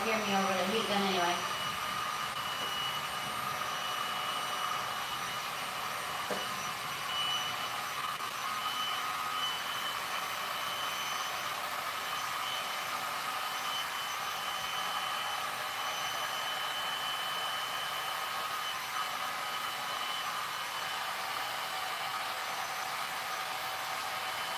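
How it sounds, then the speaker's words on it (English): A heat gun runs steadily throughout a resin pour, a constant broadband whooshing hum, with a brief burst of tonal beeping at the start. "I'm afraid you won't be able to hear me over the heat gun anyway"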